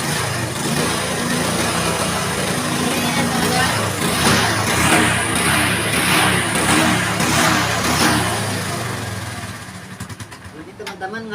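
A Yamaha Mio motor scooter engine, smoking white from a fault, runs with a rough, steady rumble, nearby and fairly loud, easing off near the end.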